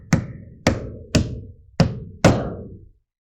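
Five sharp, close hammer blows nail off a roofing shingle starter strip near the tar strip, evenly spaced hits that each ring briefly and then decay.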